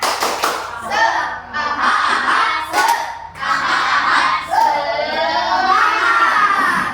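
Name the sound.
class doing the rhythmic 'tepuk semangat' clapping chant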